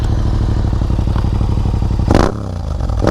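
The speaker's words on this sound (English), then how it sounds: "now I got this new Akrapovic carbon full racing exhaust. Oh my gosh, listen to this." A Yamaha MT-07 with an Akrapovic carbon full racing exhaust idles with a steady, deep pulsing rumble, then a sharp blip of revs near the end gives a louder roar before settling; close up, no talk.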